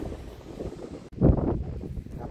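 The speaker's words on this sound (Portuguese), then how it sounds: "O vento aqui tá tão frio." Cold wind at Matosinhos beach in Porto, Portugal, buffeting the microphone in a rough, continuous rumble that swells into stronger gusts partway through.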